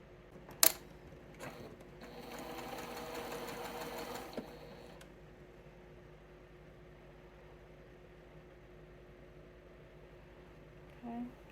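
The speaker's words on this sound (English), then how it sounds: "So let's sew that together real quick." Quilt block pieces pass through a sewing machine in one short, soft stitching run, preceded by a sharp click and followed by quiet room tone.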